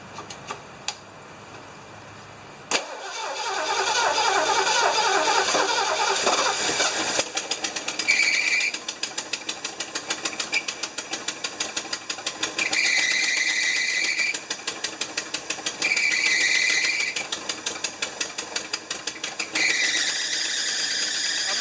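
A 1975 Lincoln Continental V8 cranks and catches after a sharp click, then settles into a steady, close idle with a rhythmic ticking and a faint high whine that rises and fades at intervals.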